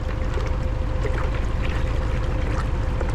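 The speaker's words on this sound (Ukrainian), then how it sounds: "першим ходом заливаємо лимонну кислоту" Citric acid solution pours steadily into a sprayer tank, a continuous watery gush with a low rumble underneath and no pauses.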